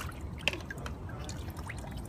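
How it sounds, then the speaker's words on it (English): Water draining from an above-ground koi pond through a hose, a faint continuous trickle with scattered drips and small splashes, no speech. "it just ejects the water out the top"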